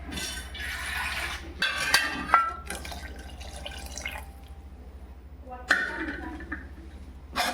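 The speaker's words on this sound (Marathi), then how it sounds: "थोडं पाणी अजून टाकू" Water poured into a cooking pot while making misal, heard as brief splashing trickles and a few clinks close by, with a voice talking over parts of it.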